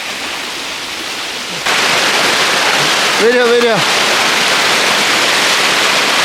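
The Mudavannur waterfall sends out a steady broadband roar of rushing water that grows louder partway through and continues unbroken, while a voice calls out briefly in the middle.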